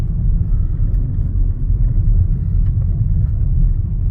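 Heavy truck traffic on a highway about twenty minutes outside Kingman, a loud, steady low rumble of engines and tires with no talk over it.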